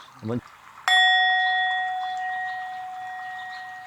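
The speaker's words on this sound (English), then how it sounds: "So I'm going to give you instructions as soon as the bells ring." A meditation bell is struck once, close and clear, after a short voice, its bright ringing tone sustaining and slowly fading over several seconds.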